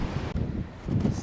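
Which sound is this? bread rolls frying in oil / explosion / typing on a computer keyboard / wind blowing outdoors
wind blowing outdoors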